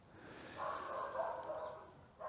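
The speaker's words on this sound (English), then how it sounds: "that dog is driving me nuts right now" A dog barks faintly in the distance, a sustained bout of yelping barks lasting over a second, then another bark starting at the end, quiet against a still background.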